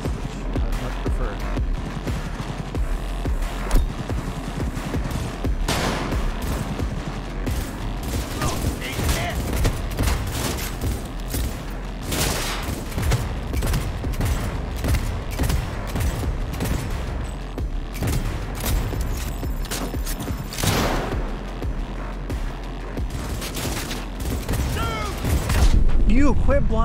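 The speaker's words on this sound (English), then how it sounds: "Quit blind firing, my god." Enemy blind fire in a Cyberpunk 2077 shootout: dense, continuous bursts of gunfire with clicking mechanical clatter and sharp cracks running throughout, close and loud, with a player talking intermittently.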